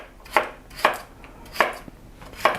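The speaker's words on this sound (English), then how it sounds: "you're cutting the carrots nice and small" Knife chopping carrots into small pieces for borscht, four sharp, evenly spaced thuds on a cutting board, close and clear with quiet gaps between strokes.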